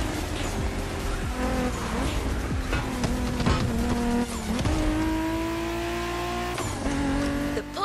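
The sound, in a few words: Porsche 911 car driving in video game The Crew Motorfest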